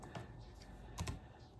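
Keystrokes on a computer keyboard attached to an old 386 pocket PC running FreeBSD and X11, a short burst of quiet taps with a couple of firmer clicks near the end, close and faint with no talk.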